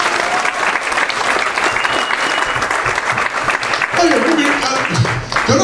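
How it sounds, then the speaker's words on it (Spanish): Steady applause from a church congregation during a Spanish-language sermon fills the whole stretch, dense and close, with a voice briefly rising over the clapping near the end. "Dale un aplauso al Señor."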